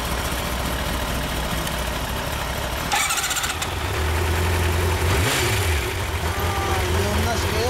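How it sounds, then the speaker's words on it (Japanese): A 2008 Kawasaki Zephyr 400X motorcycle engine running close by, a rough, steady idle with a brief rev partway through, while people talk over it. "エンジン音聞かせてください。"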